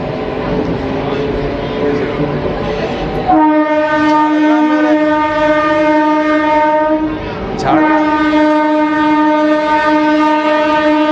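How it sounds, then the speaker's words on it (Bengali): A local train pulling out of Jhargram station sounds a loud, sustained horn twice, with rumbling carriages and station noise underneath, up close. "ঝাড়গ্রাম থেকে ছেড়ে দিল ট্রেন"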